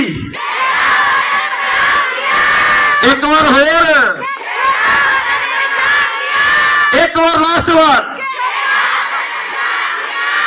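A large crowd at the opening ceremony of the Khedan Watan Punjab Diyan Season 3 sports event shouts loudly and steadily, with rising wavering chant-like cries in two bursts and an announcer's voice over the roar.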